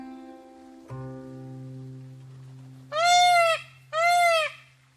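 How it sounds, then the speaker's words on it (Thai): Two loud, nasal wailing peacock calls in quick succession over a faint background hum, at an open zoo. "นี่คือเสียงร้องของนกยุง"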